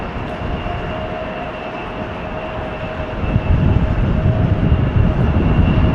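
An Airbus A321neo jet rolls at Schiphol Airport, a steady broad engine roar with a faint high whine that swells louder about halfway through and holds.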